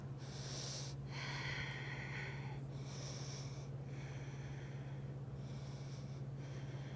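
Deep, slow breaths during a power yoga pose, heard as a series of airy inhales and exhales spaced about a second apart, faint and close, over a steady low electrical hum.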